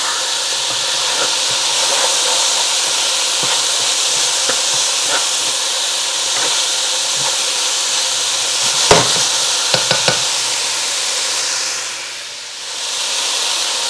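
Spices sizzling in hot oil in a pan while cooking chili, a loud steady hiss close by, with a few clinks near the end and a brief dip before the sizzle swells again.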